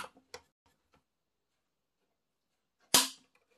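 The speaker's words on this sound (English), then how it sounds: "I'm going to put this snap cap in here and we'll do a trigger pull test." A Tikka T3x CTR bolt-action rifle in 6.5 PRC dry-fired on a snap cap: a few faint mechanical ticks, then one sharp, close trigger click and firing-pin snap, isolated in silence.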